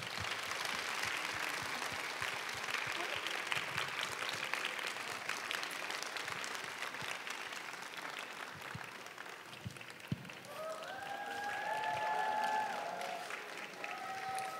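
An audience gives sustained, dense applause welcoming visiting Handong University professors at a 2018 culture night gathering. The clapping starts loud and full and eases slightly midway, with a few whistles or voices rising over the end.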